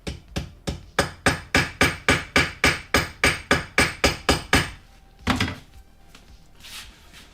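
Leather armor rivets are struck on an anvil in about fifteen sharp, evenly spaced hammer blows, loud and close, followed by a pause, one last knock and quiet handling.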